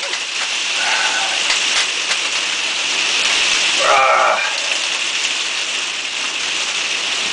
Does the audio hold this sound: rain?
yes